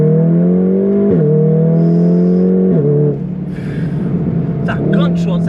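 A Stage 2 tuned VW Golf R with a DSG gearbox revs loudly and steadily up close, its engine note dropping sharply at each of several quick gear shifts, with a sharp crackle burst near the end.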